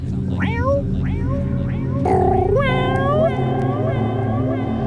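Human voice imitating a happy cat, several meows in a row, rising and falling and bright, over a steady low background hum.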